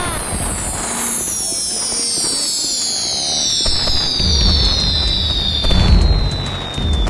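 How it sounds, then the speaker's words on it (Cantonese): Fireworks shriek upward with long descending whistles, then deep booming bursts and crackles land near the end, loud and close. "啲煙花咁樣放啊，真係好靚喎"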